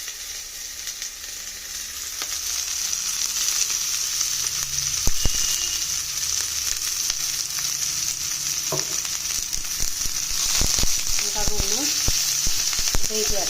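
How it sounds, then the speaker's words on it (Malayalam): Crushed spices for a Kerala-style fish curry sizzle steadily in hot coconut oil, a bright continuous hiss with occasional stirring clinks and scrapes, while someone briefly speaks. "നല്ലതുപോലെ ക്രഷ് ചെയ്ത ഇതും നമുക്ക് വെളിച്ചെണ്ണയിലേക്ക് ഇട്ട് കൊടുക്കാം"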